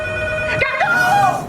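A telephone rings in a film trailer, a steady electronic tone sustained through the short excerpt, with a warbling pitch sweep partway in, over a busy mix of soundtrack and background voices.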